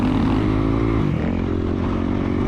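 Dirt bike engine on a wooded race course accelerating out of a sharp left turn onto a straight, a close, loud steady motor roar holding throughout without speech.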